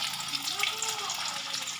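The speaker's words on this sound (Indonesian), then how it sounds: "Saat proses penggorengan, tahu jangan lupa dibalik agar matangnya merata dan tidak gosong" Stuffed tofu fries in hot oil, a steady, soft crackling sizzle with fine bubbling that runs continuously and fairly faintly, and no voices.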